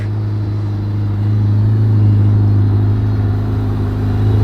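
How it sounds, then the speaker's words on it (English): A Ferrari Monza SP1, the roofless V12 barchetta, idles loud and close just after starting in cold, icy conditions, a steady deep engine rumble with harmonic drone that swells slightly, no talk over it. "So they just started it, getting ready to put it on the transport truck."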